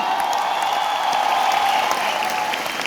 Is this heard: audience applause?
yes